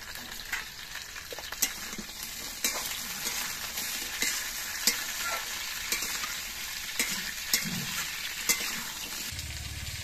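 Mixed vegetables fry with salt sprinkled in, giving a continuous close crackling sizzle with regular scraping stirs and light clinks against the pan, with no voices.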